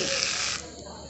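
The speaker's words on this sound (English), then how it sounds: "So only spray some here" A cleaning spray bottle spritzes liquid onto a laptop, one close, bright hiss lasting about half a second before fading out.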